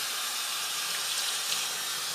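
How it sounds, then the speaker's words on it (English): Steady hissing spray of water rinsing the soles of dirty Nike Air Max sneakers, a continuous close wash running evenly throughout with no speech. "Rinse off the soles real quick"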